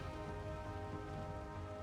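Rain falls steadily in a swampy area in the video game Valheim, a dense, even patter of drops on surfaces that holds constant throughout.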